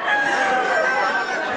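A rooster crows loudly and close at a cockfight in the Philippines, one sustained call over dense crowd chatter.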